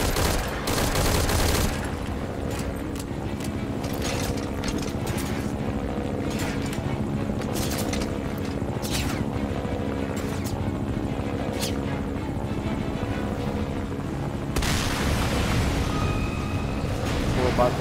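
Repeated bursts of gunfire crackle over a steady helicopter rotor drone in the video game Metal Gear Solid V: Ground Zeroes, loud and close, with a voice talking intermittently beneath.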